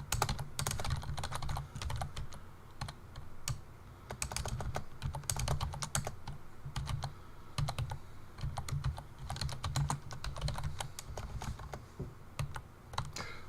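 Steady typing on a computer keyboard, a dense run of quick key clicks lasting throughout, fairly close and alone with no talk over it.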